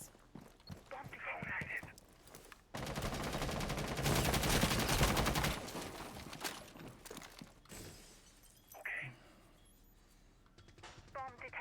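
Gunfire in a Rainbow Six Siege match, with sharp bursts of shots and a long stretch of sustained automatic fire and shattering, heard under a caster's commentary.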